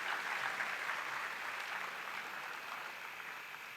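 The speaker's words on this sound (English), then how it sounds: "Please give a big round of applause to them." An audience at a technical education awards event claps in a steady, even burst of applause that slowly thins toward the end.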